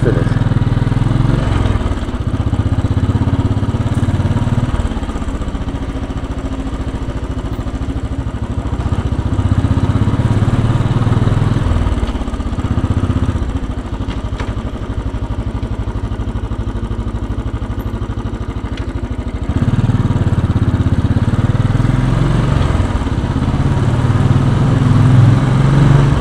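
A 2010 Royal Enfield Bullet riding from Red Hook, Brooklyn to Lower Manhattan, its single-cylinder engine thumping loud and close throughout, rising and falling with throttle changes amid city traffic.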